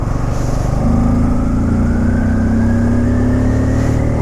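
A Pulsar N250 motorcycle engine revs loudly nearby, its exhaust note climbing steadily in a sustained throaty roar with no voices.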